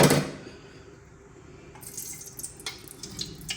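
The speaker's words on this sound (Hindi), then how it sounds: "तो चले ये देसी घी जा रहा है" Desi ghee is poured into a pot for dal gosht, a liquid splash close by at first, then quieter trickling and small clinks with no talking.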